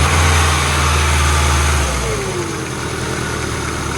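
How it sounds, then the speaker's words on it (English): An abandoned, rotten Ford engine runs loudly up close, revving and then settling to a hovering idle that drops slightly in pitch and level, with a faint whine rising over it. "Let's see how the revs hold up, they hover."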